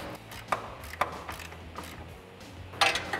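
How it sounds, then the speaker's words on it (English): Half-inch ratchet working a nut loose on a 1979-2004 Mustang rear control arm, giving a few sharp metallic clicks and creaks spaced irregularly, close and fairly quiet over low background hum. "So I got my half inch ratchet up here. We're actually just gonna break this guy loose."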